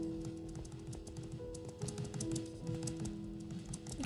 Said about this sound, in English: You can probably hear my keyboard.